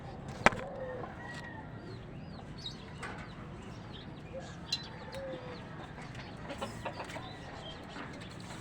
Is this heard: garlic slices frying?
no